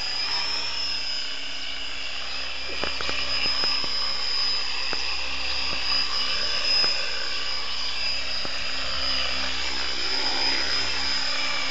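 A model helicopter flies nearby with a continuous high, whining rotor and engine drone. The level stays steady, with faint clicks and rustles underneath.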